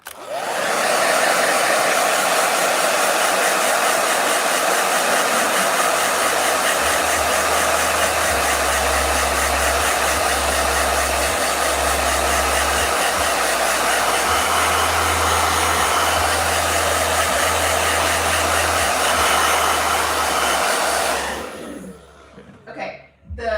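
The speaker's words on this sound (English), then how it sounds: "Blow dryer." A blow dryer runs steadily at close range, a loud, continuous whooshing roar with a low motor hum that holds for about twenty seconds before cutting off abruptly near the end.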